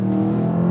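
A 2022 BMW M5 engine pulls hard with a loud, steady, deep droning note, close up and without voices, lasting under a second.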